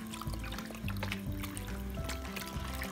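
Water and broth pour and splash steadily into a pot of beans, a continuous trickling, gurgling sound close by with faint background noise.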